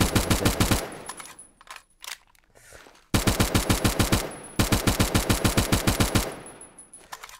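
Automatic gunfire from a weapon in Phantom Forces, loud close rapid bursts of evenly spaced shots, stopping briefly after the first burst and then resuming in two long sustained strings.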